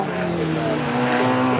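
An MG Metro race car in an MG Metro Cup race at Cadwell Park sweeps past with a steady, loud, buzzing engine note, continuous across the moment with slight rising pitch, over general trackside noise.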